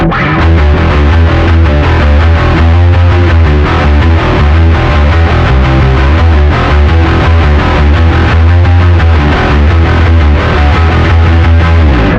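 Heavily distorted bass guitar through a distortion pedal's drive channel, playing a driving, continuous riff, loud and gritty with a thick low end throughout.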